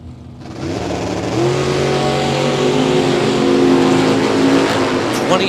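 A 1955 Chevrolet and a Mustang launch side by side at a bracket drag race, engines roaring loud and sustained as they rev up and accelerate, with a voice faintly underneath.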